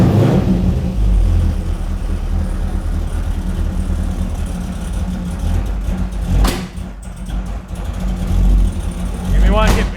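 A Corvette C5's LS1 V8 fitted with a big camshaft runs loud and close with a lumpy, uneven idle and surging revs, while people talk over it.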